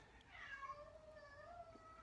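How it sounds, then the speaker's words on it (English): A house cat meowing faintly in the distance, a soft drawn-out cry with a second fainter call, heard alone in a quiet room. "can hear my cat or my son's cat in the distance here"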